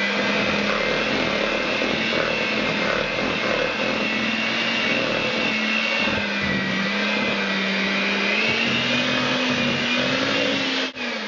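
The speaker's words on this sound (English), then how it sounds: "I've got a KitchenAid." A KitchenAid stand mixer runs steadily and loudly with a whirring motor hum that shifts slightly in pitch, beating pumpkin bread batter close by with no talking.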